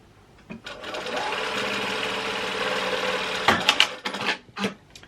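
A sewing machine stitches scrunchies with a 1mm stitch, a steady close mechanical whir running for about three seconds, then a burst of irregular clacks and knocks as it slows and stops.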